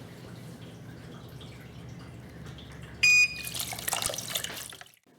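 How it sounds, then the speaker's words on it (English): A MUFGA 12-pod hydroponic growing system's water pump switches on with a short beep, then water rushes and splashes loudly and steadily for about two seconds before cutting off. "Nice, it's pumping the water with lots of force."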